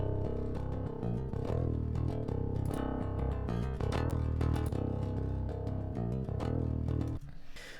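A distorted bass track with the top end rolled off by EQ plays loud and continuous, dull and heavy in the lows, then drops sharply near the end.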